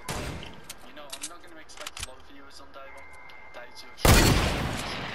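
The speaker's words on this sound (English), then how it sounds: "Oh, I've actually a grenade launcher in that." A grenade launcher fires in a video game, leading to a sudden loud blast near the end, preceded by scattered clicks and shots while a person talks.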